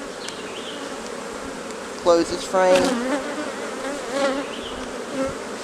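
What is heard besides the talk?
honeybees buzzing at an open hive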